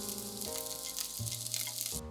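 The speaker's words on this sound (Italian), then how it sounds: "sbollentiamo per 2-3 minuti 50 g di broccoli che poi rosoliamo in padella e mettiamo da parte." Blanched broccoli browns in a pan, giving a constant bright sizzle and crackle of frying, with steady background music underneath and no talking.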